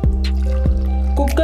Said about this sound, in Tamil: இந்த வெல்லம் கரைச்ச தண்ணியை சேர்த்து அளக்கலாம்.